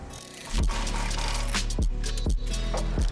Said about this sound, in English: Remove the 18mm nut and bolt at the bottom of the shock.